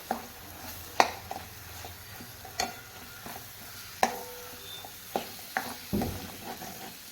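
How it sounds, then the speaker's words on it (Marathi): Onion and coconut paste sautéing in oil makes a low, quiet sizzle broken by sharp spatula taps and scrapes against the pan roughly every second, with no voices. "आता आपण इथे कांदा आणि खोबऱ्याचं वाटण घालून घेऊया वाटण देखील तेलामध्ये आपण परतून घेऊया"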